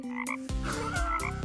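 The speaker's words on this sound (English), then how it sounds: "Yes, this is a frog." A frog croaks in loud, close bursts, one long call followed by a second, with a low buzzing pulse under higher tonal overtones and no talk over it.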